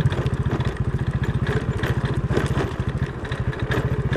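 A motorcycle rides along a narrow concrete footpath, its engine giving a steady, close, throbbing putter with some rattling, and no talking over it.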